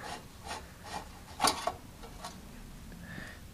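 Screws are worked loose from the heater box cover on a Tecumseh carburetor of a snow blower, giving faint rubbing and scraping with a couple of sharper clicks, quiet and close, with no talking.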